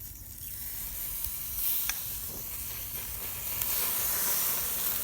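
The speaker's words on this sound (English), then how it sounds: "we're gonna take the sauce and we're gonna just spoon it in to these oysters" Oysters on a Weber Smokey Joe charcoal grill hiss and sizzle steadily as sauce is spooned onto them, a continuous close frying sound with faint swells.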